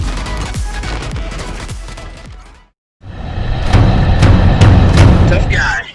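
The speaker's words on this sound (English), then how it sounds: "These people love throwing C4." C4 explosions and gunfire in a first-person shooter video game: a burst of rapid shots and booms, a brief silent gap, then denser loud automatic fire and blasts.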